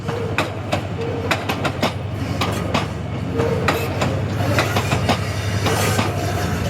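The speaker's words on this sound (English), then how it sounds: "Strange bogies with a diesel on the back." A TransPennine Express train with a diesel locomotive on the back rolls through York Station, steady rumbling with repeated clickety-clack wheel beats over the rail joints, loud and close throughout.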